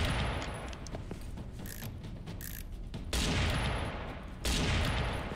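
Dense, sustained gunfire from the Serious Sam 4 video game, with rapid bursts and heavy booms layered together, loud and continuous throughout, swelling into even louder volleys toward the end, with no voices.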